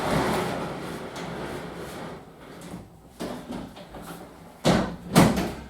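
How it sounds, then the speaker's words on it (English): An appliance door is opened before its panels come off, heard as a muffled rustle followed by two sharp clunks near the end, close by with no talking. "open the door just to pull it out."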